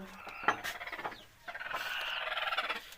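Desi chickens kept at a rural poultry-raising home, heard near the house in the morning, with repeated gobbling, clucking calls in short bursts close by, loudest toward the end.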